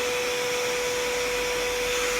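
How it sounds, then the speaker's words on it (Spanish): A vacuum cleaner runs steadily over a pet's fur indoors after doing the sofa, a loud constant whining drone with no change in pitch and no talk. "Y le pasamos la aspiradora a Selena."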